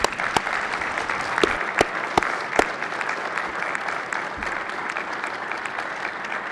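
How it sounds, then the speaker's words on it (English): Steady applause from a room of people on a Senate floor session, a dense wash of clapping with a few sharper claps standing out, continuing evenly throughout. "a warm round of applause"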